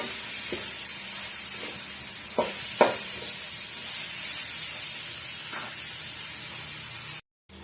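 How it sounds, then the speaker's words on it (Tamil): Chopped tomatoes, onion, ginger and garlic sauté in a pan for Chettinad chicken varuval, a steady hiss of frying broken by a few soft spatula knocks before a brief cutoff at the end. "சேர்த்துட்டு நல்லா மசிஞ்சு வர வரைக்கும் வதக்கி விட்டுக்கலாம்"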